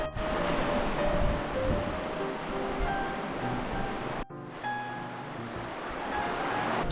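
Flowing creek water rushes and splashes continuously, up close, as someone walks through it in Zion, with a brief break partway through and a few faint tones above the steady wash.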